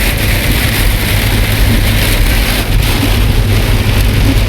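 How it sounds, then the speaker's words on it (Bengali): Heavy rain pours in Taif, Saudi Arabia, a loud, dense, unbroken roar of downpour hammering surfaces close by, steady throughout with a low rumble beneath. "প্রচুর বৃষ্টি হইতেছে"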